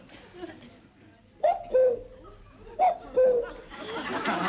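A voice imitates a cuckoo call twice, each a two-note hoot with a falling second note, followed by rising background noise.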